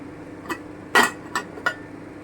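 A lid set over a pan of green banana kofta curry on the stove gives a few sharp metallic clinks, one louder knock in the middle, close and isolated in a quiet kitchen.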